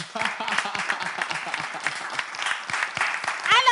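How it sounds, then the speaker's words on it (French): A studio audience applauds the guest Fauvette on a French variety show, a dense steady wash of many hands clapping at close range, with a voice briefly rising near the end. "Merci d'ovationner, d'applaudir, tout ce que vous voulez, Fauvette."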